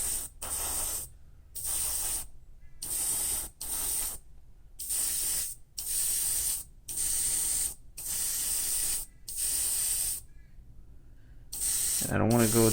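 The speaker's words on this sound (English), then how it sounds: "let's keep spraying." Repeated short bursts of airbrush spray hiss as candy metallic paint is built up on a Gunpla scale model, in a steady on-off rhythm, about a dozen close blasts separated by brief pauses.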